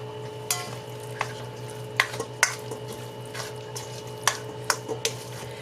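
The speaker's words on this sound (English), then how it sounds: "we're going to stir this all together" A spoon stirs a Sloppy Joe mix with tomato sauce in a pot, producing several sharp scraping clinks at an irregular pace over a quiet, steady background hum.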